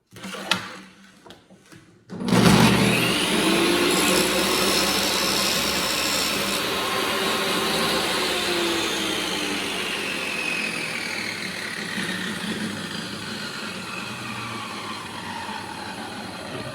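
A table saw cuts a groove into wooden drawer parts using a thin blade. A loud, steady whine starts after a short quiet lead-in and holds under the cut, with no talking.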